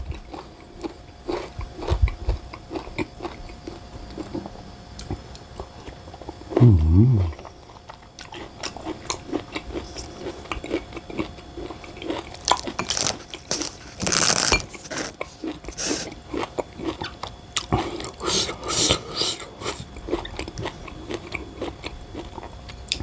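Crunchy chewing of raw liver close to the microphone, repeated bites and crisp crunches in irregular bursts, with a few brief vocal sounds in between.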